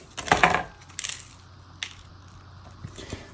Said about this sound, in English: cut it open with the fork.